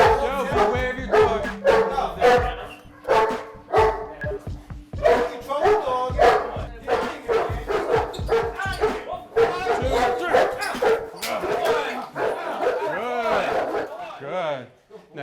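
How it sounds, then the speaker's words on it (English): A dog barks repeatedly and loudly nearby, with people talking over and between the barks throughout. "I couldn't hear you over the barking dog."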